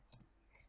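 A computer mouse gives two quick, faint clicks spaced closely together, then a softer click follows a moment later in a quiet room.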